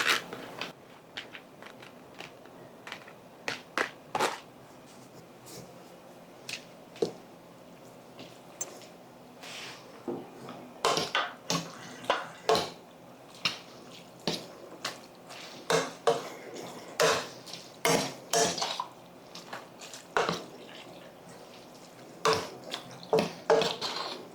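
Eight ounces of cooked linguine dumped into a pot of meat sauce and stirred, giving soft wet squishes, drips and occasional spoon clinks on the pot in irregular close bursts, with no talking.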